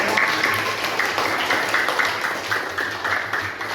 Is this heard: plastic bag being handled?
no